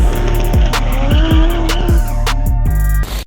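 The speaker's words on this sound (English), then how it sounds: "so a 1JZ VVTi, and it makes cool sounds" A Toyota 1JZ VVTi straight-six swapped into a BMW E46 M3 drift car revs hard with squealing tires, loud and close, the engine note rising and dropping in quick pulls before cutting off.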